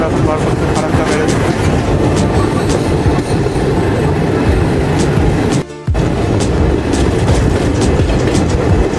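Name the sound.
Patna Express passenger train running on rails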